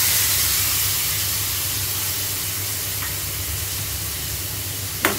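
Chili powder and mango pieces added to hot oil with mustard seeds in a pan give a steady, loud broadband hiss and sizzle throughout, with a brief clink near the end.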